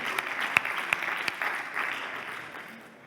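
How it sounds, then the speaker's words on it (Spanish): A conference audience at an artificial intelligence summit gives moderate applause, scattered hand claps with a few sharp louder ones early, tapering off toward the end. "Un aplauso para Alberto, que nos va a hablar"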